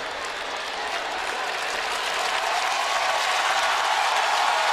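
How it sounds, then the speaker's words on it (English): Stadium crowd at a 2009 NFL football game between the Texans and Titans roars with cheering and applause, a dense, loud, continuous wash of noise that builds slightly in intensity throughout. "And listen to this crowd."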